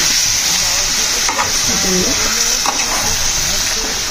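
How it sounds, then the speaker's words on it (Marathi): Spiced dry chicken with Kashmiri red chilli, ginger and garlic is sautéed in a pan, giving a steady close sizzle with the scrape and stir of a spatula throughout. "आपण छान असं परतून घेऊया।"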